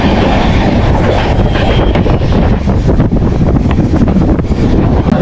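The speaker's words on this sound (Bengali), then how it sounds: "এই আমরা প্রবেশ করছি খান্ডালা টানেলে।" Deccan Queen Express rushing into Khandala tunnel, a loud, steady rumble of wheels and carriage with heavy wind buffeting throughout, no voices.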